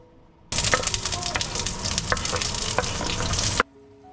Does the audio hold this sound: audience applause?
no